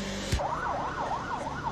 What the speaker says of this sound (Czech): Současně s ním se rozezvučily sirény a začaly se sjíždět požární jednotky z širokého okolí.